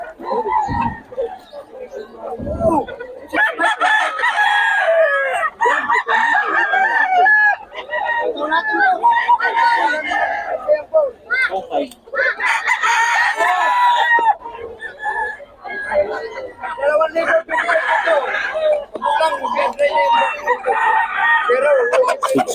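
Roosters crow repeatedly at a gamefowl gathering in Bocaue, loud and close, with scattered clucking between calls and people talking in the background.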